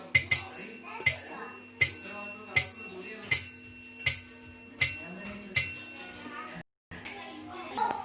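A bright bell chimes about eight times at an even, steady pace over a soft sustained keyboard tone from a Yamaha PSR-S975, ringing clearly and fading briefly between strikes.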